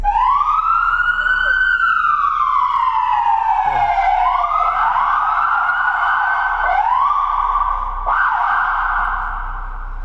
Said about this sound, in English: So I'm gonna go ahead and turn on the siren here.